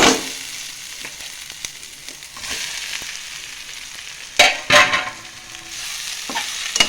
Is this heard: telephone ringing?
no